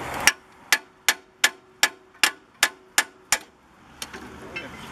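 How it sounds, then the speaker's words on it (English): A hammer strikes the upper ball joint on a Honda Accord with eight sharp metallic blows at an even rhythm, close and loud, followed by a few softer taps. "Try to slam this with hammer."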